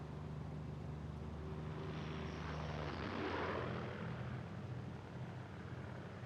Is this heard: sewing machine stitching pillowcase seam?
no